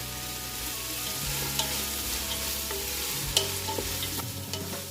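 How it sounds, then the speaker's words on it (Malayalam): Four medium onions sauté in a pan, a steady sizzle with stirring scrapes and a few sharper clinks of the spoon against the pan, close and continuous without any voices. "ഇനി നമുക്കിതിലേക്ക് 4 മീഡിയം സൈസിലുള്ള സവോള ചേർത്ത് കൊടുക്കാം. ഇനി ഇതെല്ലാം കൂടി നന്നായി വഴറ്റിയെടുക്കാം."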